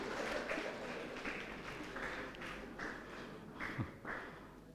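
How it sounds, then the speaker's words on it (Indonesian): A church congregation at Sunday worship applauds together, a steady wash of many hands clapping at moderate distance for several seconds without pause. "Tepuk tangan semua."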